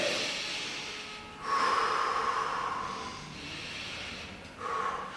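Deep, forceful breaths taken during a boxing explosive-power training session, heavy exhalations rising in three loud surges close to the listener, with no talk.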